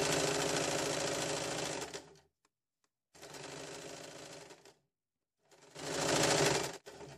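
A sewing machine stitches a square neck on a saree blouse in three close, steady bursts of rapid needle clatter, separated by short pauses of silence, with no voices.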